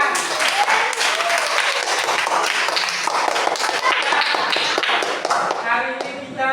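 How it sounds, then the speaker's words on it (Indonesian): Applause from a class or audience at a lesson on managing emotions: sharp, irregular claps and taps with shuffling and thuds, loud and close, with voices mixed in before it thins out at the end. "ya, tepuk tangan"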